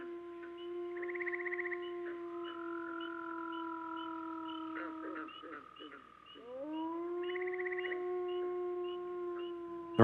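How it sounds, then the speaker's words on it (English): Wolves howl in the Canadian wild: long, sustained tonal wails overlapping in a chorus, one voice breaking off midway before the howls rise again, clear and moderately loud over a quiet background. "There aren't many Canadians who've actually heard a wolf howl,"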